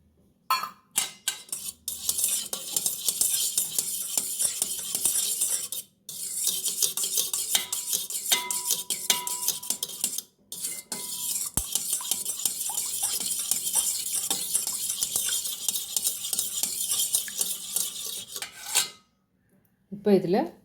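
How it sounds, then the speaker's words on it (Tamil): Oil and curd are stirred together in a bowl for an eggless plum cake batter. A steady, close scraping and clinking of the utensil against the bowl runs almost without a break, with a few short pauses. "இது நல்லா மிக்ஸ் பண்ணணும், தயிரும் இதுவும்."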